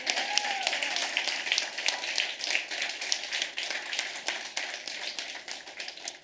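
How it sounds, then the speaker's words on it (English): An audience at Ukraine House Davos applauds steadily, a dense, even wash of many hands clapping that continues without a break throughout, with no talk over it. "Let's applaud."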